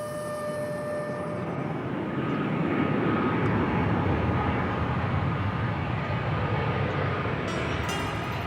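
A jet airliner arriving at Angkor Siem Reap International Airport in Cambodia gives a steady, broad engine roar that swells slightly midway and holds loud throughout, with faint tonal whines riding on top.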